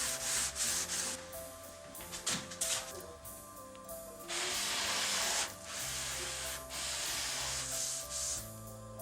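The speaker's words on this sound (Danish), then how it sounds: "derefter en let slibning for at fjerne eventuelle ujævnheder og skader" Light sanding of a door surface to smooth out unevenness and damage before painting, a steady close rubbing scrape that surges and eases in strokes over several seconds, with background music and no talk.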